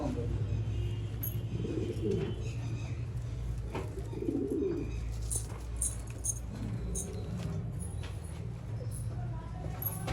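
Pigeons coo in soft low bursts repeated a few times amid a busy outdoor background, with bird chirps scattered through.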